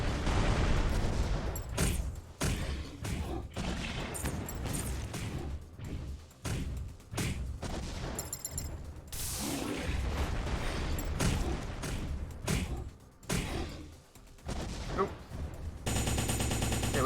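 Missile barrage in the video game M.A.S.S Builder, a dense, sustained run of loud explosive blasts and rapid firing bursts for most of the clip, with brief gaps between volleys.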